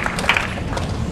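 A crowd at a motivational seminar at Menara 165 applauds five female singers and an orchestra, giving a short, dense burst of steady clapping at close range.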